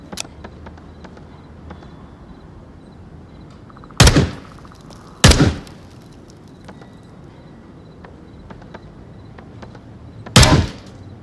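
Three sharp, loud single gunshots fired in the VR shooter game Onward during close-quarters room clearing, spaced irregularly over a quiet background with faint ambient noise.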